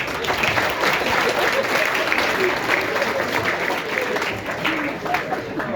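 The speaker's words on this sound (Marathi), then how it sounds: "याच्यावर इतक्या प्रचंड टाळ्या." A school send-off ceremony audience for tenth-standard students bursts into sustained, dense applause, a loud continuous wash of many hands clapping with crowd murmur mixed in throughout.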